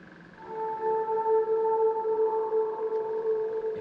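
A squeaky deer-like call drenched in reverb and delay, stretched into a long, sustained tonal moan that rises and swells continuously, sounding almost whale-like, with no talking.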